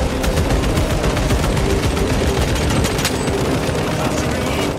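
Continuous rapid gunfire in the Space Marine 2 final mission hammers away loud and close, layered with a dense rumble of battle noise throughout.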